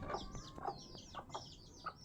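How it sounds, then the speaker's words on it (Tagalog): Several chickens cluck softly in short, scattered calls, with a few higher chirps mixed in under quiet outdoor ambience. "Mga manok."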